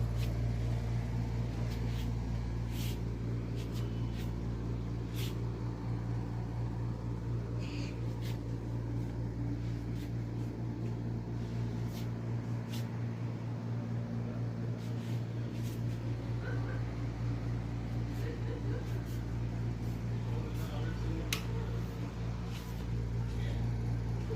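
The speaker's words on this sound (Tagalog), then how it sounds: "Ang ingay na nadidinig niyo ay sa mga sasakyan dahil kami ay katabi ng kalsada" Vehicle traffic on an adjacent road in the Philippines makes a continuous low rumble outside a condo-style house, with passing engines and occasional clicks steady in the background for the whole stretch.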